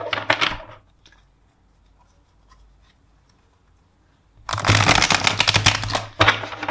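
Tarot cards being shuffled by hand in two dense, crisp bursts of riffling and flapping: a short one at the start, then a longer run after a quiet pause, close and fairly loud with no talking.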